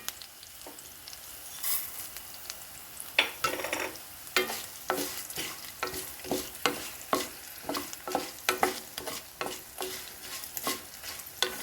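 Fenugreek, green chillies and coriander seeds roasting in a pan for curry leaf pickle, with a steady dry sizzle and repeated scraping stirs of a spatula, close and alone without speech.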